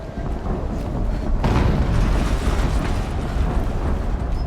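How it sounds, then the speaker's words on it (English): A loud, booming explosion in the Horizon Zero Dawn video game, a dense rumbling roar that swells sharply partway through and then sustains without letting up. "An explosion."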